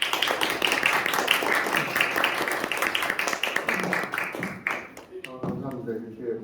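An audience claps in a dense burst of applause that fades out after several seconds.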